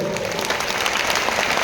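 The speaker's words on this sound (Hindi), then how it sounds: "तो जोरदार तालियां बजाइए और बैठ जाइए" Loud, dense applause from a crowded audience, steady and sustained with no voices rising above the clapping.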